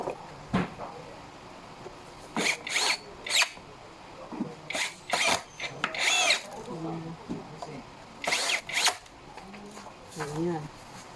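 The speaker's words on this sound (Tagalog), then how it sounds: "So, screw natin yung tatlong bolt." A power drill screws in three bolts on a black mesh executive office chair in short, loud, close bursts of whirring. A person speaks between the bursts.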